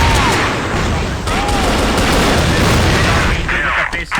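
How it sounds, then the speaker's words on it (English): Rapid gunfire in a CrossFire competitive esports match, dense continuous bursts of loud shots and booms filling the whole stretch. "Shots!"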